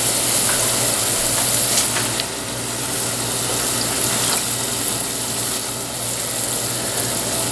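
Kitchen tap running to rinse out an empty tomato can, a steady loud hiss of flowing water close by, with faint clinks of the can and no talking.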